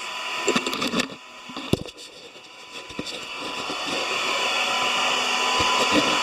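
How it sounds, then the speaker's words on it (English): A hair dryer blows air into a coal forge, used for forging a railroad spike into a skull hook, with a steady whirring roar that builds gradually, broken early on by a few clanks. "the hair dryer that I use to blow air into my coal burning forge"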